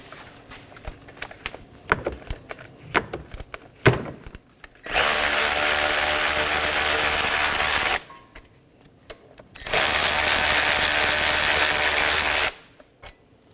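A ratchet breaks loose the 14mm brake caliper slider pin bolts on a 2015-2023 Nissan Maxima. Scattered clicks and handling noise lead into two long, loud stretches of rapid ratcheting, one after the other, close by.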